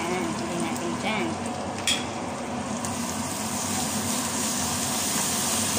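Alamang, a shrimp paste, sizzles and fries in a pan. A continuous crackling hiss goes on throughout, with a few sharper pops and stirring scrapes, loud and close.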